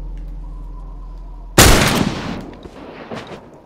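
A loud gunshot blast from a weapon in the video game The Last of Us Part II, erupting suddenly after a low steady hum and then decaying into a rumbling tail with scattered debris-like clatter.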